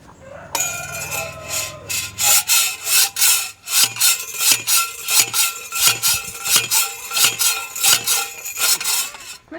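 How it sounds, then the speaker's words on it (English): A ground anchor is driven into the ground: repeated metallic rubbing and scraping strokes in a steady rhythm, with sharp bright clanks between them, loud and close. "Push that in there, and then Tyler's gonna drive it down in."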